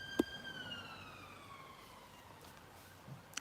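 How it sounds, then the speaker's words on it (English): An emergency siren wails faintly outside, a steady falling tone heard from a distance with a couple of sharp clicks near the start and end. "Oh, alarm, siren."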